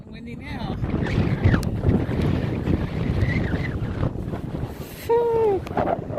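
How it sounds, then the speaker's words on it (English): Gusty wind buffets the microphone on a canyon hiking trail near San Gorgonio, a continuous rushing roar, while a voice speaks intermittently over it. "It's getting windy now."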